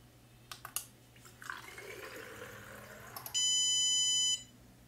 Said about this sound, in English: now I will press the start button to fill the bottles